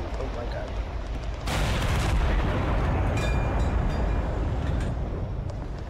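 Gunfire in the Total Conflict Resistance video game: a loud rumbling burst kicks in and holds as sustained booming fire, with a voice talking over the din.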